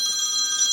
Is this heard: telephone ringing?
yes